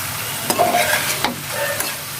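Chopped carrots and vegetables frying in a pan for shakshuka, a soft steady sizzle with a few scraping stirs of a spoon, close and alone without talk.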